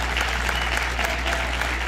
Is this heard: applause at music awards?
yes